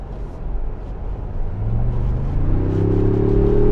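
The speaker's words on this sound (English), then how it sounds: "I'm going to go ahead and give her some throttle again" Ford Bronco V6 engine accelerating under throttle, heard from inside the cabin, a low rumble that swells into a rising, sustained engine drone as the revs climb.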